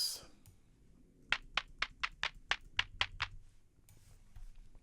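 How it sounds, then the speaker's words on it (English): Synthesized clap hits from a generative clap-machine device in Ableton Live, about ten sharp, evenly spaced claps in a quick run, dry and close, with a brief burst of noise before and after. "This thing that generates claps."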